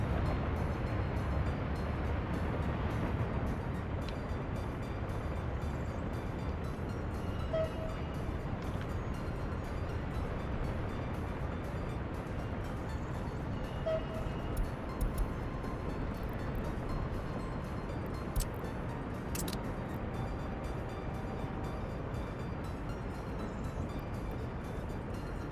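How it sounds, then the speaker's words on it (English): A train rolls along in the city-building game Workers and Resources with a steady, low, continuous rumble and faint clatter that holds evenly throughout, with no voices. "That's an interesting train."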